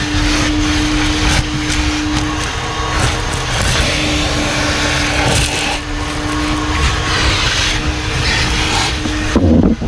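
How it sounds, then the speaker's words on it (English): A steady, loud vacuum cleaner drone cleaning a car's back seat runs throughout with a constant hum and airy rush, some rubbing and bumping noises, and a brief clatter near the end. "this vacuum's not gonna do me any good"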